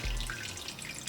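Cold tap water running gently over a fish fillet, a soft, steady trickle with faint drips close by, no voices.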